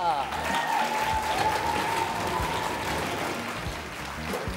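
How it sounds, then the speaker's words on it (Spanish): A live audience at a comedy show gives a big round of applause as guest comedian Nico Buga is welcomed on stage; clapping fills the room throughout with voices and cheers over it. "Les pido que lo reciban con un gran aplauso al señor Nico Buga"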